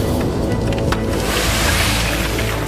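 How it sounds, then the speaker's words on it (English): Breezy wind sweeping across desert sand dunes, a loud continuous rushing roar with heavy low-end buffeting against the microphone, steady throughout without voices. "It's quite breezy today, but most of the sand is still just rolling along the surface of the dunes here."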